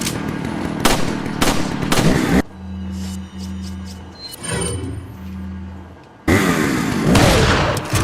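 Shotgun blasts in Resident Evil 4 on GameCube, several loud close booms in a cluster at the start, a quieter stretch with a low droning tone and a lighter shot, then more heavy blasts at the end.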